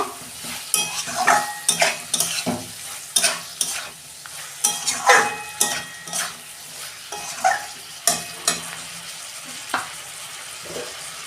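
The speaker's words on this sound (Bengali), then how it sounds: "চিংড়ি মাছগুলো দিয়ে দিচ্ছি। এবার ভালো করে একটু কষে নেব।" Shrimp stir-fried in a pan for a pointed gourd and shrimp dish: a quick series of spatula scrapes and tosses over a soft sizzle, close and fairly loud, with no talking.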